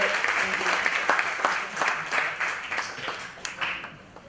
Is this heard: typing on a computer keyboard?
no